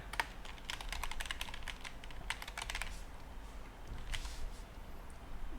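Someone types an email address into a sign-up form on a computer keyboard: close, quick bursts of clicking keys with short pauses between runs, and no voices.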